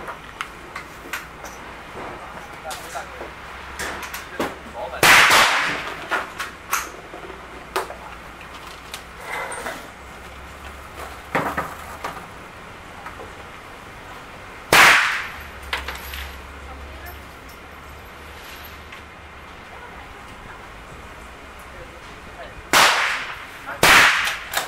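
A .458 Winchester Magnum rifle firing 500-grain bullets at an outdoor range, with several sharp, loud shots spaced seconds apart, each ringing briefly, among lighter clicks and handling noises.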